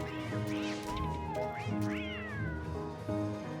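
A catcoon, the raccoon-like creature in the video game Don't Starve Together, gives a few drawn-out, wavering meows that rise and fall, clear and close over a steady layer of game music.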